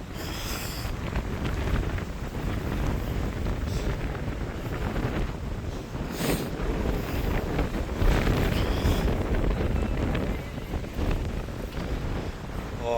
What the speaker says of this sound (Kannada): ಗಾಳಿ ಜೋರಾಯ್ತಲ್ಲ, ಮಿಸ್ಟೆಲ್ಲ ಹೋಗ್ಬಿಟ್ಟೈತೆ.